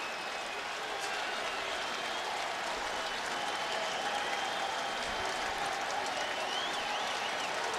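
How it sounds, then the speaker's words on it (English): A baseball stadium crowd at a 2006 Astros vs Mets game cheers and applauds steadily, wanting a strikeout with two strikes on the batter; the roar is dense and continuous throughout. "This crowd wants strikeout number 2."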